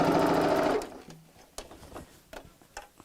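Sewing machine stitching over the handles of a tote bag, running in a close, steady whir for under a second before stopping, followed by a few light clicks and taps.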